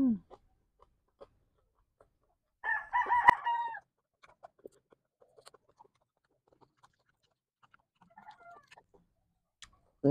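Chickens in a quiet setting: a single loud rooster crow stands out early, followed by scattered soft clucks and faint ticks, with a brief burst of clucking near the end against near silence.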